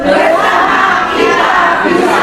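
A crowd at a halal bi halal gathering shouts together in unison as the response in a call-and-response chant, one dense, loud, sustained roar of voices.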